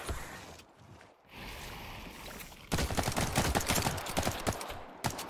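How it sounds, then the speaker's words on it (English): Enemy gunfire rattles in The Cycle: Frontier, dense rapid shots that surge loudly in the second half after a quieter stretch of ambient noise and a few scattered bursts. "He's really shooting at me."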